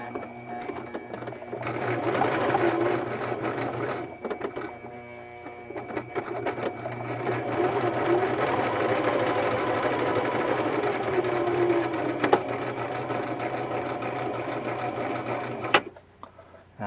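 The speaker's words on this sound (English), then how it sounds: "It's a fun thing to let a sewing machine just rip away and sew quickly" A sewing machine stitches a paintball gun lens protector, running as a steady, close mechanical whir with a fine rapid needle clatter. It keeps going almost unbroken for the whole stretch, with a brief dip partway through and no talking.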